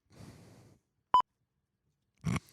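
A single short censor bleep, a clean steady tone lasting a fraction of a second, set between quiet gaps and brief muffled sounds before and after.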